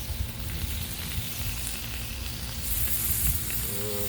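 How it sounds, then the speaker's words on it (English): Pork chops searing on a hot Blackstone griddle, a steady loud sizzle and hiss with crackling spatter that swells near the end, close up and without talk. "am going to turn up the heat and get a good sear going"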